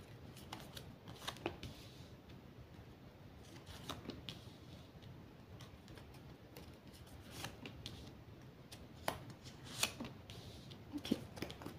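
Tarot cards cut and shuffled close by in a quiet room, soft riffling and flicking with occasional sharper snaps, faint and irregular.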